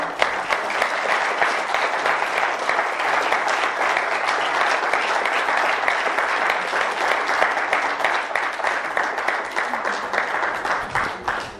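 Sustained, dense applause fills a lecture hall as an audience claps for the speaker after her talk, steady and loud throughout with no voices.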